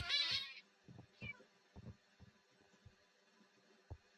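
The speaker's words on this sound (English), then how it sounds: "The meowing is real" Several short meows from a cat in a hide-and-seek video game, spaced irregularly and fairly faint, with a brief burst of higher-pitched noise at the start.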